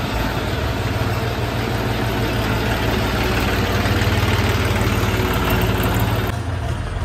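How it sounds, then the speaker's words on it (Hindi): A tractor engine idles close by, a loud, steady low chugging drone that runs unbroken for several seconds, with no voices over it. "ट्रैक्टर अपना निकल गया बाहर"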